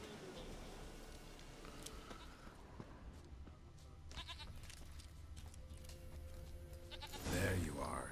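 Goat bleating in The Witcher 3, a few cries heard amid game ambience and background sounds, with a louder burst near the end.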